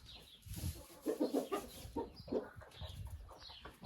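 Broody hen in a backyard coop giving soft, low, repeated clucks in a quiet run of short grunting calls, faint and close-up with no talk.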